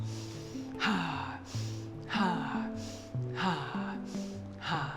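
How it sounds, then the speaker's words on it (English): Continuous breathing, drawing in through the nose and blowing out through the mouth, a steady rhythm of about five audible breath cycles without pauses, close and fairly loud, with a soft voiced tone under some exhales. "we inhale through our nose and exhale through our mouth continuously"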